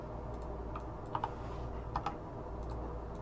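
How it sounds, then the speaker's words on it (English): Typing on a computer keyboard, with soft, steady key clicks and a few sharper taps over a constant low hum, close and fairly quiet. "Now I'm just going to type it in."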